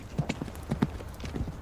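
Horse hooves clip-clopping as a mounted cavalry rider turns away, several quick uneven hoof strikes close by at a trotting rhythm, brief and fairly clear.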